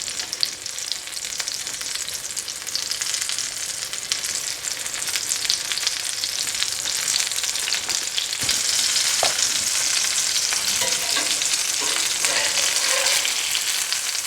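Breaded schnitzel cutlets frying in oil in a pan, a loud steady hiss and sizzle throughout, swelling louder when a cutlet is flipped partway, with faint utensil scrapes.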